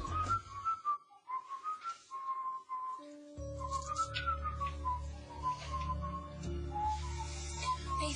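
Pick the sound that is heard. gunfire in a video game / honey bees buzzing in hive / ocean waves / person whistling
person whistling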